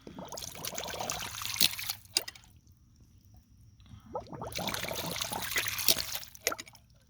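A homemade water ram pump gushes in two long surges of flowing, splashing water, with a few sharp clicks of the valve and a quiet pause between the surges.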